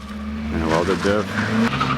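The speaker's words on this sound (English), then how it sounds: "we're gonna go try to do some donuts in this 240" A Nissan 240SX S14 with a welded differential doing donuts, its engine droning steadily while tires squeal and skid in rising, wavering bursts, close and loud throughout.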